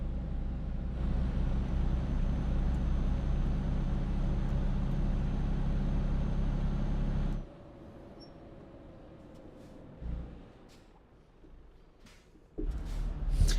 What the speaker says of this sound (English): I'm sure the noises of my truck are not disrupting the residents at all.